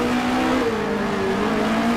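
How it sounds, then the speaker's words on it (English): In a racing video game, a race car engine holds a steady loud drone, its pitch dipping slightly then climbing back as the car slides through a corner, with no voices over it. "Oh, and sliding the car through."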